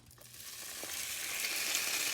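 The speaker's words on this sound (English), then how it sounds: "Just let it sizzle, and this doesn't take very long at all." Steady, bright sizzling of shrimp frying in a hot pan, growing slightly louder and denser over a couple of seconds, with no talking.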